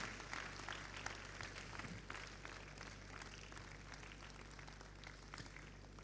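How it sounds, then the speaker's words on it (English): Faint, distant applause from an audience after a university lecture on higher education continues steadily over a low electrical hum. "can we sustain that applause for the wonderful lecture that we've had?"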